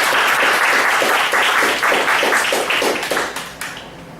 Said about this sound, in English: a big round of applause for our speaker